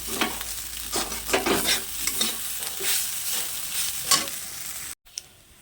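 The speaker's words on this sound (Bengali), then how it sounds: "একটু হালকা হালকা করে এটা কষে নিতে হবে" Spices being sautéed and stirred in a pan, a steady close sizzle with repeated scraping strokes of the spoon, ending in a brief gap and a last faint scrape.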